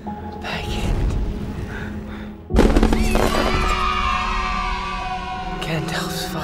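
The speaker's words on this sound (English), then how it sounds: "Gandalf's fireworks." Fireworks crackle and boom in a thick, dense wash of sound, with a sharper burst partway through and faint voices mixed beneath.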